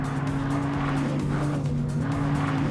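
An Audi R8 Rear Wheel Drive takes a very tight corner, its engine droning steadily and loud with tires squealing and scrubbing through the turn.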